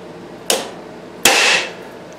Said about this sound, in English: let's see what'll happen if I hit it with a hammer.